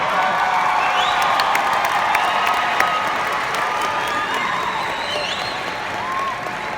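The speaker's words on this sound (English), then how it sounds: "I want you to celebrate them with a loud, thunderous cheer." Graduation crowd at GLHS cheering loudly and steadily, a dense roar of voices, whoops and clapping sustained across the whole stretch.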